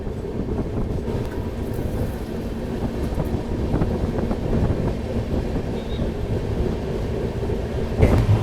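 The Amrapali Express rumbles along the rails, heard from inside a carriage as a continuous low, rattling roar with wind buffeting and clanks, growing louder with a sharp burst near the end.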